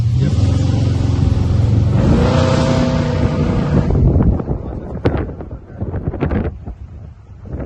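A 1965 Chevrolet Impala convertible engine runs with a steady, loud, low rumble and wind buffeting for about four seconds, then drops away into scattered clicks and knocks.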